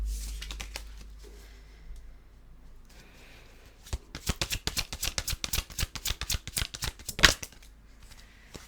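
Tarot cards shuffled by hand, a quiet start giving way to a rapid run of crisp, close riffling flicks and slaps lasting several seconds, with no talk over it.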